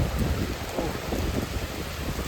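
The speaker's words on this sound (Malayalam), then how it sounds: "നിൽക്കാനും ഇരിക്കാനൊന്നും പറ്റില്ല, നല്ല മഴ" Heavy rain pours down in Valanchery in a dense, continuous roar, loud and close, with no voices.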